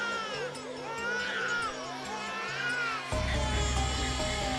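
Cat-like wailing voice from the Chaos;Child video game, set in a park: wavering, rising and falling wails sustained over a steady musical drone that deepens and swells near the end, with no talk.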